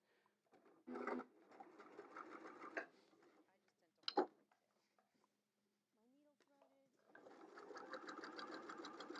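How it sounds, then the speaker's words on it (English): A sewing machine stitches quilt binding in several bursts, running steadily for about two seconds, stopping, then starting again for a longer run. Short clicks and a brief voice come in the pauses between runs. "I'm just going to stitch right off the edge"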